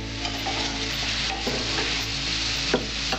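Potato pieces frying in oil until reddish-brown for a Bengali drumstick chachchari sizzle in a steady close hiss, with a few soft spatula clicks and scrapes and no voices.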